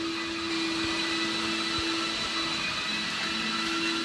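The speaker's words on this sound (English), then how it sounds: "they're trying to vacuum up the water" A water vacuum sucking up flood water drones continuously at a constant level with a whining tone, heard from nearby without pause.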